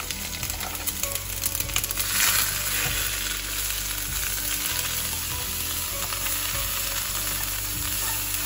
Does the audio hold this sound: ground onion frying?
yes